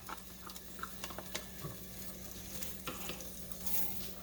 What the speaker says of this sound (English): Okay, so the butter is melted. Now I'm going to add the onions.